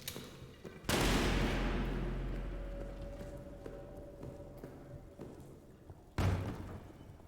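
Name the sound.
soldier's gunshot at a rat in Amnesia: The Bunker video game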